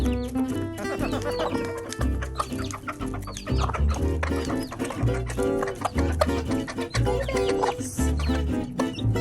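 A flock of backyard chickens, including young birds, clucks and chatters continuously and densely, close and busy, with overlapping calls throughout.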